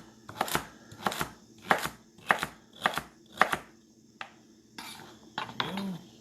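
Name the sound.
knife chopping vegetables into bite-sized chunks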